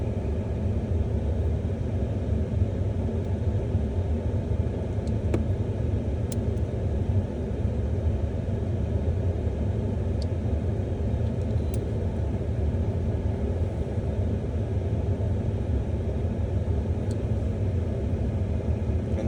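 A 2019 Ford F-150 XL pickup idles with a steady, low, even rumble that holds without change throughout, with a few faint clicks on top.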